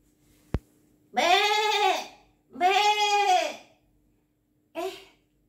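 Sheep bleating in three calls, two long wavering bleats followed by a short one, loud and close after a brief sharp click, with no talk.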